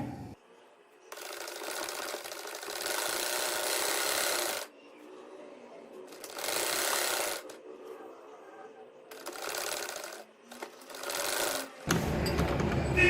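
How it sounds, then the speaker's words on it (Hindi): Sewing machine stitching a strip onto a trouser hem, several bursts of steady, close mechanical whirring separated by short pauses, with small handling clicks between runs. "अब इस पट्टी की जो है हम सिलाई लगाएंगे ट्राउजर पर"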